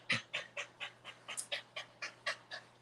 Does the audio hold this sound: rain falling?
no